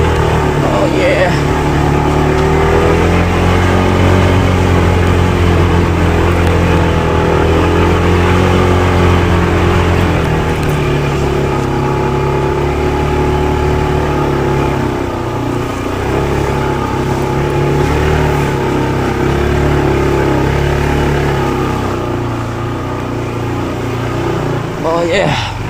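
A motorcycle engine drones steadily during a ride, a loud continuous hum with slight shifts in pitch, while people talk over it.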